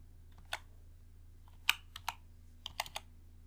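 Quick, light keystrokes on a computer keyboard as a price is entered into an Excel spreadsheet cell, a few scattered taps in small bursts, close and quiet, with no talking.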